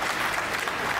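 Audience applause at a Hindi poetry recital, a brief dense burst of many hands clapping together, steady and moderately loud.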